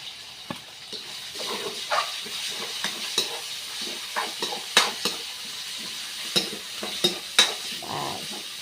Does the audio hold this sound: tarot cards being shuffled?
no